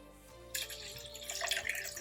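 Water is poured into a pot of milk in a kitchen. After a short quiet moment, a close, splashy pouring stream starts and continues to the end, with no talking.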